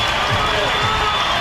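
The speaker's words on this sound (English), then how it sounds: "You can hear the Sooner fans in this crowd" Steady crowd roar from Sooner fans in the stands at a Tennessee vs Oklahoma NCAA Women's College World Series softball game, a broad continuous wash of noise with a faint voice mixed in.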